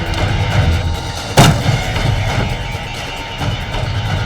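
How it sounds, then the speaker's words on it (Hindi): A blank cartridge is fired once in a television crime drama, a single sharp report standing out from a low, steady background. "गोली चली जरूर थी, लेकिन वो एक ब्लैंक कार्ट्रिज था"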